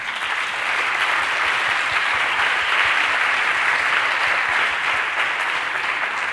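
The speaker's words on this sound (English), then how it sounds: "I want to give them applause even though they're not here." A conference audience breaks into full, loud applause, a dense, continuous roar of clapping that holds evenly for over six seconds with no voices on top.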